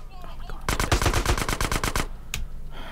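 Rapid automatic gunfire in GTA San Andreas, a burst of about a dozen sharp shots lasting just over a second, followed by one more lone shot against low game background sound.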